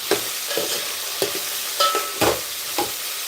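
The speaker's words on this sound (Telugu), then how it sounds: "చక్కగా ఒక ఫైవ్ మినిట్స్ అయితే రోస్ట్ అవ్వనివ్వాలి కిచిడి అండి" Khichdi with potato, green chilli, onion, coriander, mint and green peas roasts in a pan, a constant sizzle broken by repeated scraping stirs and spoon knocks, close up and with no talk.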